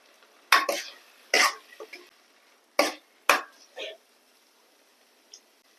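A spoon stirs ridge gourd curry with fresh coriander in a pan, giving a handful of brief, scattered clinks and scrapes separated by quiet gaps.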